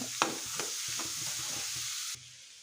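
Coriander and spices being mixed into a pea snack, with a few crisp scraping strokes at the start and then soft repeated stirring under a steady faint hiss that cuts off near the end.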